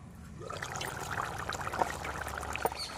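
Tomato juice and water pour steadily into a mutton curry pot with a continuous splashing trickle, moderately loud, with a few brighter splashes toward the end.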